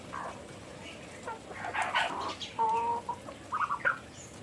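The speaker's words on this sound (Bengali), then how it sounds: "দেখেন আমার ঘরোয়া খামারের হাঁস মুরগি ধান খাইতেছে" Domestic ducks and chickens feeding on paddy at a home farm give short clucks and calls in scattered bursts, close by and moderately loud.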